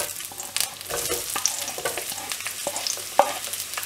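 Onions with bay leaf, cardamom and cloves frying in oil in a pan for a mushroom cashew gravy, giving a soft, continuous sizzle with light stirring scrapes and ticks throughout.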